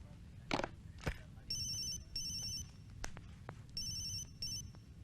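An electronic phone ringtone chirps in repeated bursts, two quick rings at a time, fairly close, with a few clicks and light background noise between them.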